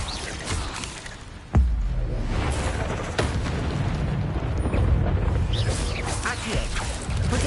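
An Incendio fire spell cast in a Harry Potter video game erupts as a sudden loud burst, then settles into a sustained, roaring, rumbling whoosh of flame that lasts several seconds.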